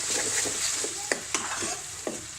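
Tomato puree going into frying aloo gobi matar sizzles steadily in the pan, with a few soft stirring scrapes and splutters over the constant hiss, with no talk.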